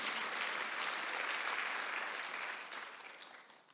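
A church congregation at a Sunday worship service applauds in a dense, even wash of clapping that gradually fades toward the end.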